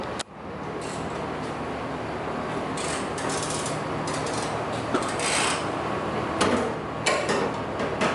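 Ratchet wrench clicking as it loosens a bolt during a Predator Mustang install, mechanical rubbing and ratcheting bursts recurring over steady background noise, close and moderately loud.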